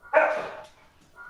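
A dog gives a short, loud burst of barking right after being startled by a sneeze, close by, then falls quiet with faint noise trailing after.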